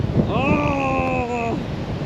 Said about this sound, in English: it comes in massive waves of wind.